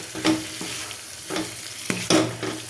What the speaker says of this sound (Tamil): பெப்பர் போட்டு ஒரு மிக்ஸ் பண்ணிவிட்டு